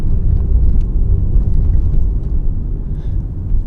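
A car rolls along a narrow back road in rural Japan, its low engine rumble and tyre noise steady and close throughout, with no talking.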